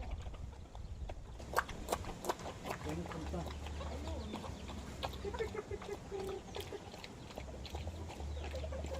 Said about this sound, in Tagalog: Ay kasi itong mga tandang na to.